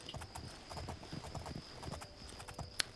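Horse hooves clip-clop at a steady walking rhythm in the video game Oblivion, a continuous run of soft close hoofbeats with a brief sharper click near the end.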